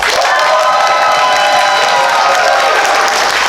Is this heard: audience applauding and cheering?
yes